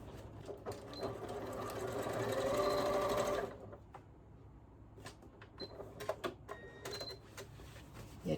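A domestic sewing machine stitches fabric for a panettone holder in a loud, steady whirring run of about three seconds, then stops, followed by scattered clicks and small handling taps, close up with no talking.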